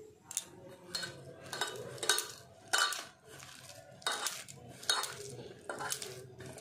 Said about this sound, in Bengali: চামচটা রেখে দিই।